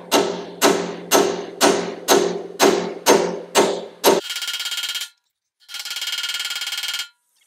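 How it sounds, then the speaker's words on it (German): Eight evenly spaced, ringing hammer blows strike a socket, knocking a rear strut upward on a Mercedes ML W163 in a garage. Two longer, steady harsh mechanical bursts follow, close and loud. "kloppen halt mit dem Hammer das ganze Federbein einmal nach oben"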